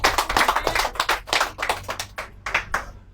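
A church congregation breaks into applause, a burst of brisk clapping from a group of hands with rhythmic peaks that tapers off toward the end.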